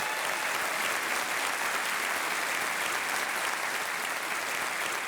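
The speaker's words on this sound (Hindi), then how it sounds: "तालियां बजती रहनी चाहिए देवियों सज्जनों।" Studio audience on the Indian TV game show Kaun Banega Crorepati applauds steadily and loudly for the whole stretch, a dense, even wash of many hands clapping with no voices over it.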